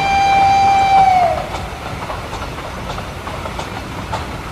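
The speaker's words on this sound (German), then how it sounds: "Nur die Züge fahren noch." Model railway trains running on track, opening with a loud sustained horn-like whistle tone for about a second, then settling into a quieter steady rolling rumble with faint repeated clicks.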